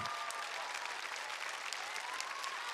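An audience claps and cheers at a semi-final of the Ukrainian national selection for Eurovision 2017, steady dense applause throughout, somewhat distant with no speech on top.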